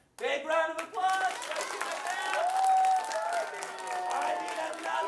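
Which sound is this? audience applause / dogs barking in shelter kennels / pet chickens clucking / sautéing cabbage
audience applause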